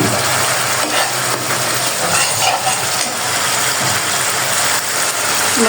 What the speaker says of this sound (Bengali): আমরা যেভাবে মশলা কষাই সেভাবে কষাই নিচ্ছি।